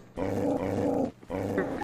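A dog growls in Garry's Mod DarkRP, two sustained rough snarls separated by a short pause, loud and close with no talking over them.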